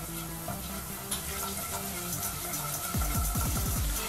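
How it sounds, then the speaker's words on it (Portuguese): Paprika (colorau) fries in olive oil in a pan with a steady close sizzle and stirring scrapes, under background music and without talk. "vamos misturar esse colorau ao nosso azeite para ele fritar um pouquinho"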